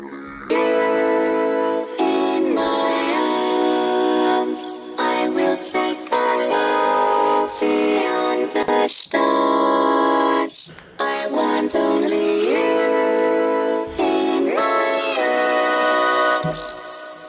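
Produced electronic track section built from manually played synth chords, dense and continuous with layered sustained harmonies, a brief break near the middle, loud and full throughout with no voices.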